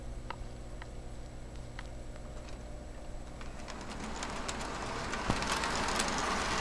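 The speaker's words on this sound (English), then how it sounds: "So I'm gonna turn on the trains, and I'm gonna show you how they run." A Lionel model train running on a home layout: a steady electric hum with faint rhythmic ticks that grows into a rising, dense rattling clatter of wheels on track, with no talking.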